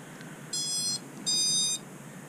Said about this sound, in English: that's the kind of continuity check that I do